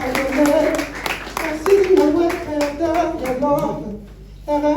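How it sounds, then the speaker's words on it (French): An audience applauds a young performer, the dense clapping rising and falling for several seconds beneath a voice speaking over the crowd. "Est-ce qu'on peut applaudir pour ce garçon?"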